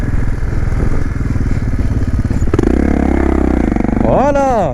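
Motorcycle engine roaring close and loud through a wheelie, a steady throbbing drone that rises into revving pitch sweeps near the end, with someone talking over it.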